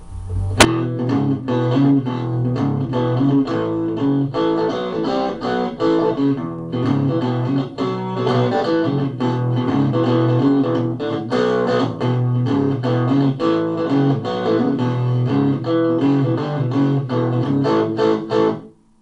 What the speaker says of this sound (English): now we have more of just kind of a real light, almost country distortion, where you're just kind of overdriving a little bit